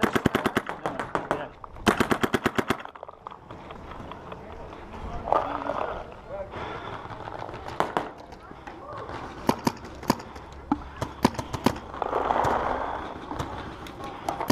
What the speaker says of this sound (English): I'm shooting the Empire Axe.